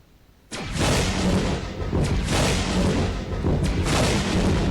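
Sudden heavy video game gunfire bursts in, dense and booming, continuing steadily with a few sharper cracks, loud and close, with no voices.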